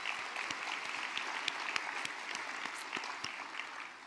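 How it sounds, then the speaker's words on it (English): A luncheon audience at a small business awards event applauds the nominees, a steady, fairly distant round of clapping with a few sharper individual claps standing out, continuing evenly for the whole stretch before easing slightly. "Let's give them all a round of applause."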